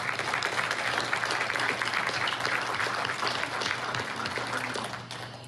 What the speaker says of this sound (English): I'd like everyone to give a big round of applause to these candidates.